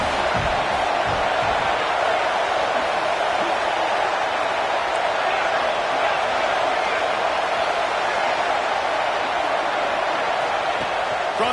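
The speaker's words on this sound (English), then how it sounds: "how nice is it to have the home crowd going absolutely bananas" A home crowd at a football game roaring loudly and continuously, a dense wall of cheering noise that never lets up, with speech beneath it.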